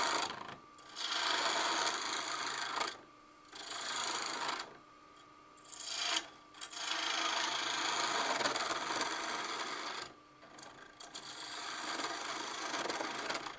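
A gouge cuts a wooden spindle spinning on a lathe, making rough scraping and shaving noise in repeated passes separated by short pauses.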